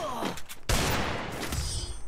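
Gunfire in a shooting video game: a dense burst of shots kicks in partway through and keeps rattling on, loud and close, after a brief quieter lead-in.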